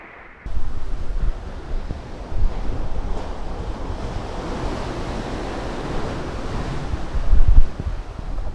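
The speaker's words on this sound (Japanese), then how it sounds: "波が強くてね、疲れますね、こっち。" Strong surf at a secluded beach in Bali, a dense continuous wash of breaking waves with wind buffeting the microphone, rising in surges, close and loud with no talking.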